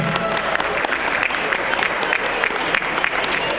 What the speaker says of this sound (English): Big round of applause for them for being so kind.